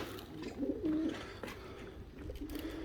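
Pigeons coo in low, rolling murmurs inside a coop, several overlapping calls close by, against a steady background of rustling and faint chirps.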